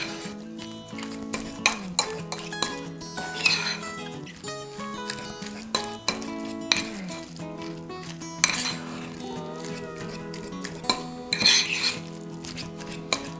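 A spoon clinks and scrapes against a bowl as grated cheese is mixed with sour cream, with repeated light metallic taps over a steady musical background.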